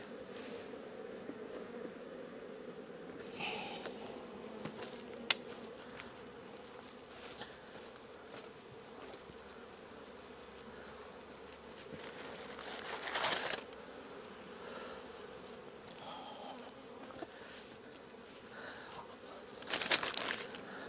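Honeybees drone steadily at an opened hive during a beekeeping inspection, a soft continuous buzz close by, with occasional crinkling handling noises and brief clicks.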